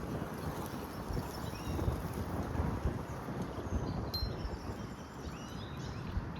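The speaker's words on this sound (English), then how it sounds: "Wind conveniently picks up just for when I press record" Gusty wind buffets a microphone outdoors near water, a steady rumbling roar with surging low-end gusts and no talk.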